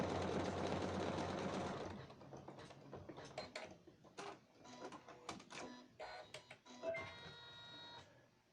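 An embroidery machine sews a blanket stitch around an appliqué shape: about two seconds of dense, close mechanical whirring, then a run of quick uneven clicks and ticking as the needle mechanism works on.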